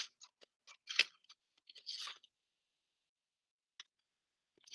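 Scissors cut through a paper mug template for a ceramics coil project, giving a series of close, crisp snips and crunchy rustles in irregular bursts, then a few isolated clicks in near silence.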